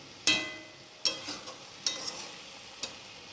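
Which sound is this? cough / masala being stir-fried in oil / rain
masala being stir-fried in oil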